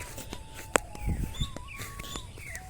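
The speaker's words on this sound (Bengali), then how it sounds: "পাখির কলকাকলি" Birds chirp and tweet in an open field, with short bright calls scattered throughout, a few closer louder notes and soft footsteps underneath.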